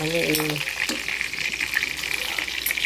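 Beef for Filipino bistek sizzles steadily in a hot pan, a continuous crackling hiss with a few brief clinks, heard up close.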